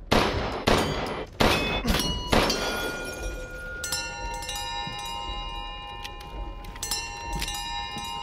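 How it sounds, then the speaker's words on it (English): Five bells in a chamber in the Resident Evil Village game ring out one after another as loud metallic clangs, then their long shimmering tones overlap and linger with a couple of later strikes. "let the five bells of this chamber ring out"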